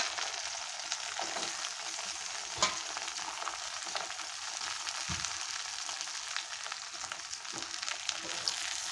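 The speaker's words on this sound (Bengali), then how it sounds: "পেঁয়াজটা আমি হালকা ভেজে নেব মাঞ্চুরিয়ার জন্য" Chopped onions fry lightly in a pan with ginger, garlic and chilli for chicken Manchurian, a steady moderate sizzle broken by occasional stirring scrapes.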